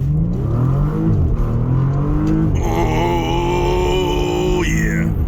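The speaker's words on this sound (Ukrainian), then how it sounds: "Мені так сподобалось, як вона їде, що я хочу на Sport Plus спробувати ще раз." A 2016 Audi A3 Premium S-line 2.0 TFSI Quattro accelerates hard in Sport Plus mode: a loud, close engine note climbs steadily, drops at a gear change, then rises again, with no talking.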